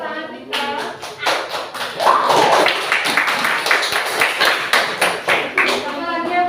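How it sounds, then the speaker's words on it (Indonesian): Scattered audience clapping rings out in a university classroom, individual sharp claps clearly separate and uneven, with a voice speaking over them partway through. "Silakan beri tepuk tangan kita."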